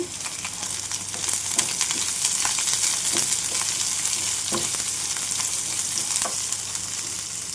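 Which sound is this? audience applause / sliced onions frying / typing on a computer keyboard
sliced onions frying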